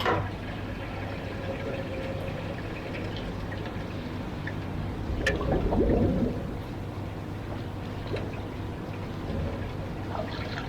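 A rinse system washing a 65-year-old vintage motorcycle fuel tank during chrome restoration, giving a steady low rush of flowing water with a faint trickle and a brief louder surge midway.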